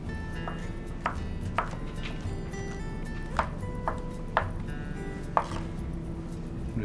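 A knife rough-chops a broccoli stalk on a cutting board in a series of distinct, irregular thunks, close and fairly quiet, with a low steady background hum.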